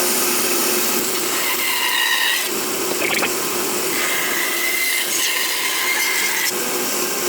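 Freehand cut through a cedar guitar body blank with a power saw, a steady loud whining buzz with shifting pitch that dips briefly around the middle and continues without speech.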